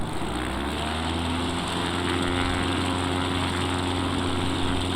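An XCub light aircraft engine runs at full takeoff power, a loud, steady propeller drone with strong low harmonics that never lets up.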